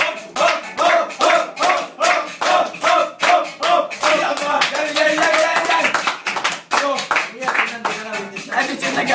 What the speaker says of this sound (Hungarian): Tapsoljatok!